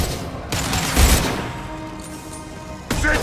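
Rifle fire in Mass Effect 2, a few loud sharp bursts with booming tails near the start and another at the end, with no talk.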